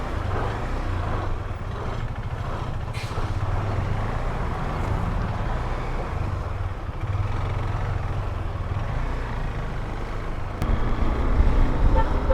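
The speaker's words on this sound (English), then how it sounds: "So this is one fucking heavy traffic jam." A heavy roadside traffic jam, heard from a KTM 390 Adventure motorcycle, gives a continuous low rumble of idling and creeping engines, with a short horn toot and a louder engine surge near the end.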